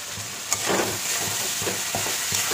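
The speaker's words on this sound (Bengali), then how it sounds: "এবার খুব কষাবো মশলাটাকে" Spices for red potato dum frying in a pan, a loud continuous sizzle close up with soft stirring scrapes recurring every half second or so, no voices.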